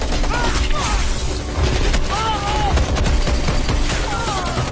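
Continuous gunfire and booming blasts fill a chaotic film battlefield, a dense, loud barrage with no letup, while curving voice-like tones rise over the din at moments.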